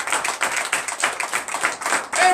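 A church congregation at a night prayer service claps in a steady, rapid rhythm, many hands close and loud together, with no voices over the clapping.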